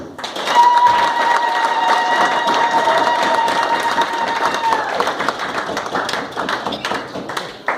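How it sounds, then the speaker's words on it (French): A crowd at a community general assembly installation ceremony applauds steadily for several seconds, the clapping dense at first and thinning toward the end, with a sustained tone ringing underneath. "Applaudissez."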